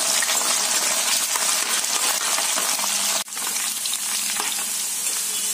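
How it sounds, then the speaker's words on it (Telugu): Okra frying in hot oil in a pan, producing a loud, continuous dense sizzle up close, with one brief dip and a clink partway through before the frying resumes. "ఆయిల్ అనేది హీట్ అయింది. సో ఇప్పుడు నేను బెండకాయలు దీనిలో యాడ్ చేస్తున్నాను."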